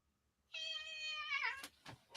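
A female cat gives one drawn-out, harmonic meow lasting about a second, then a few sharp, noisy bursts like hisses or spits. No one speaks.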